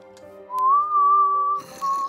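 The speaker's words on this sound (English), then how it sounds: "I'm hearing whistling and stuff." A clear whistled tone holds steady for about a second, breaks briefly, then returns amid a burst of busy game noise.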